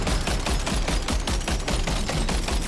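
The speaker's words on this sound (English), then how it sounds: "Go, machine gun, go." Rapid machine-gun fire from the video game Death Stranding 2: a loud, steady burst of evenly spaced shots rattling continuously, with no pauses and no voices.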